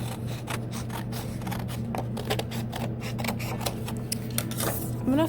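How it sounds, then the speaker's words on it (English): Scissors snip through paper being cut for a paper model of a mug, a quick run of close, crisp cuts in steady rhythm, with faint background noise. "And then I'm gonna cut this off."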